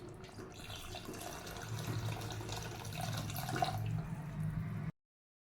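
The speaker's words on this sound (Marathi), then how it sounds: "आता आपल्याला जेवढी ग्रेव्ही लागते त्यानुसार पाणी टाकून घेऊयात" Water poured into chicken curry in a pressure cooker, a continuous close splashing and gurgling stream lasting about five seconds before stopping abruptly.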